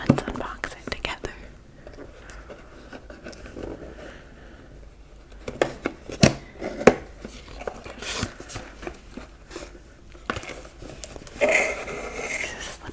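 Unboxing a Taylor Swift 1989 Viewfinder package up close: soft rustling, tapping and handling clicks in irregular bursts, with quiet whispering throughout.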